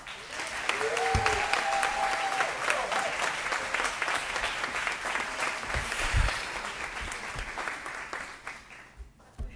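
An audience at a State of the City address for Oak Park applauds to welcome the city manager, sustained loud clapping filling the room and fading slightly toward the end, with brief voices in the background.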